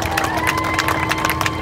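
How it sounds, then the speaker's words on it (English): Crowd cheering and clapping at a car burnout competition at a Ford fest, loud continuous shouting and applause with a steady tone running underneath. "Ladies and gentlemen, give him a big round of applause."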